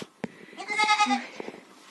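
Young goat kids on a farm in Odesa region bleat in a brief, wavering cry with a few soft clicks and shuffles around it.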